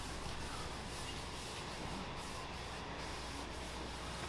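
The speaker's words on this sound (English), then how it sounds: "So if I agitate it with the sandpaper and blend it, then the patina will take easier." Sandpaper scrubbing a steel surface to agitate a patina, a steady close rough hiss that runs continuously without pauses.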